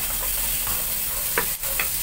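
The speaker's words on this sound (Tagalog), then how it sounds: "kunting halo-halo lang din para magsama na yung bawang at sibuyas" Garlic and onion sautéing in a pan with a steady sizzle, broken by a few brief scrapes of stirring near the end, with no talking.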